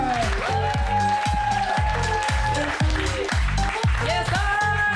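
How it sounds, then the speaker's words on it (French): Loud audience applause and cheering for a comedian at a French-language stand-up comedy show, dense continuous clapping throughout with some voices calling out. "Let's go! On applaudit pour Evelyne Roy-Molgat!"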